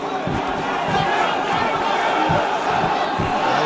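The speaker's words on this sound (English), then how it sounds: "listen to the crowd" Arena crowd at a grappling fight in Krasnodar roars in a dense, sustained wall of voices with rhythmic pulses, loud and unbroken from start to end.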